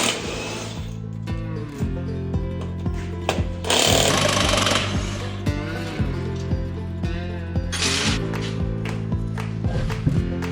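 Pneumatic impact wrench taking lug nuts off a car's front wheel, loud repeated rattling bursts of hammering with short pauses between them, one run after another, alone without talk.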